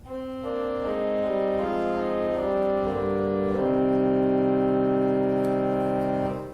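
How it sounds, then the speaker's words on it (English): A pipe organ's viola da gamba string stop sounds alone in Faith Lutheran Church, New Providence, a thin, bright, reedy tone holding sustained notes that shift pitch in several steps before fading out. "That particular string is called a viola da gamba"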